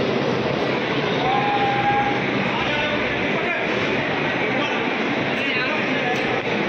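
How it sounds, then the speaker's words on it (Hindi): A children's ride train moving through Ellante Mall in Chandigarh on Christmas evening, a steady rolling rumble blended into busy crowd noise and distant chatter, with a brief high whistle-like tone. "तो ट्रेन जा रही है सामने, बच्चे ट्रेन में मज़ा कर रहे हैं।"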